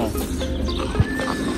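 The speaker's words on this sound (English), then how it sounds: "It's a horse." A horse in a video game whinnies loudly and fairly close, its neigh wavering over a steady background hum, with a faint thud partway through.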